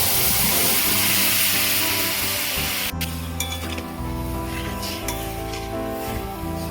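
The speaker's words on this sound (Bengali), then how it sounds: "এবার আমি কড়ার মধ্যে ঢেলে দেবো" Raw mango pieces coated in sugar hit a hot wok with a loud, steady sizzle, followed by scraping and clinking strokes of a spatula as the mixture is stirred.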